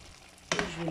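Rabbit in cream sauce in a pan, a steady low bubbling hiss that brightens into a louder sizzle and stir partway through, close by.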